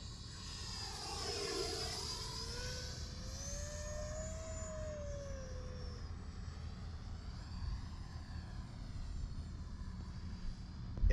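An Arrows RC Viper 50mm EDF jet whines across the sky, a thin sustained tone that rises and falls as it passes at a moderate distance, over steady wind noise.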